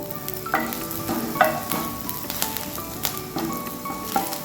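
Ginger, onion and potato sautéing in a pan, a close steady sizzle punctuated by several sharp stirring clinks and scrapes of the spoon against the pan.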